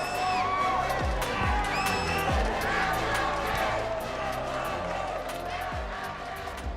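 Arena crowd at the Mobile Legends: Bang Bang Mid Season Cup 2024 grand finals, a dense continuous roar of cheering and shouting with scattered whoops and thumps, loud and steady throughout.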